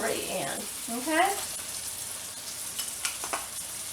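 Onions and celery tossed into a pan of cooking ground beef for stuffed cabbage rolls: a steady close sizzle with a few stirring knocks, and a voice speaking briefly over the frying at the start.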